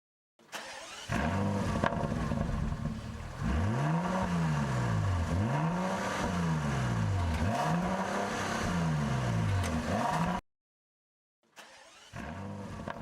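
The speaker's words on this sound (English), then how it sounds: "did you picture a race car, the engine being turned on and revved?" A race car engine turns over and catches, then revs in repeated rising-and-falling surges, loud and close; after a brief silence the engine noise returns.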